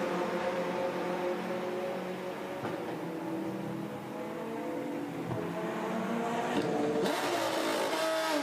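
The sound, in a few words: Porsche race car number 99 leaving the pit stand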